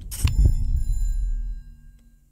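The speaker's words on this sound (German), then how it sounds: "Und schon wieder klingelt das Telefon" A telephone rings once in the horror video game Hell Is Others, a bright metallic bell burst that fades slowly into a low hum.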